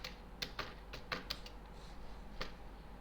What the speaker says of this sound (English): Now I am going to type